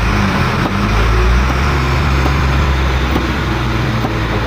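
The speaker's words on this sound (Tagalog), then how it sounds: "nagdadaanan na yung mga truck dito sa aming malalaki." Heavy road traffic with large trucks rolling past on a nearby roadside, a steady loud low rumble of engines and tires continuing throughout with no talking.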